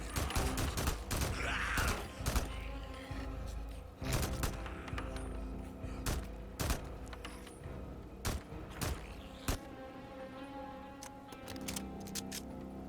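Rapid gunfire from a fast-firing weapon in Days Gone while fighting a horde, sharp shots in quick bursts and clusters with short gaps, loud and close, mixed with clanks and thuds.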